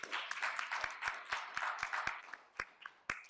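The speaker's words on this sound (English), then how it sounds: "Another round of applause for the panelists." A small group claps for a few seconds for a conference panel, the applause fairly quiet and thinning into scattered individual claps.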